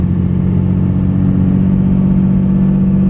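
A 3rd gen Cummins diesel truck on stock fuel with a Smarty Junior tuner cruises at about 1900 RPM, a loud, steady, low droning engine hum heard close inside the cab with no change in pitch.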